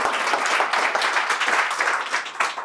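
An audience at an AI meetup claps in sustained applause, a dense crackling patter of many hands that swells and tapers over a few seconds.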